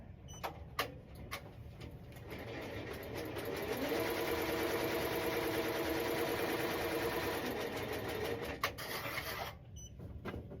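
An embroidery machine stitches a glitter heat-transfer-vinyl reindeer onto a T-shirt. Its steady mechanical whir carries a fast stitching rhythm, with sharp clicks as the run starts and stops.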